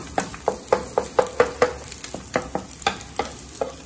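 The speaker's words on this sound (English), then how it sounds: "Okay, telur tengah masak." Eggs seasoned with salt cook in a pan for fried rice, with repeated stirring scrapes in a steady rhythm over a soft, continuous sizzle, close and moderately loud, with no talking.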